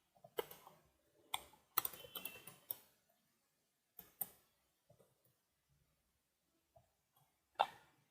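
Typing Java code on a computer keyboard: scattered bursts of crisp key clicks and clacks close up, irregular with pauses between, in an otherwise quiet room.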